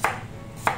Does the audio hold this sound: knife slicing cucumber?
yes